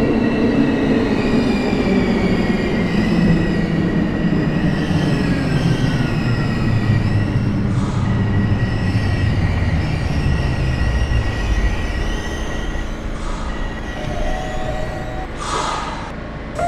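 A train runs in the OpenBVE train simulator game on the SIR line toward Bayonne, with a steady loud rumble of wheels on rails, a falling motor whine, and brief metallic squeals and hisses toward the end.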